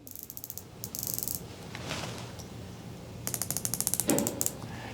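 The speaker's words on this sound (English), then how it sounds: "There's this very satisfying click, 120 click bezel" Rotating Rolex Submariner bezels, one real and one fake, give off rapid, fine ratcheting clicks in short runs, close up and fairly quiet, with a brief pause between bursts.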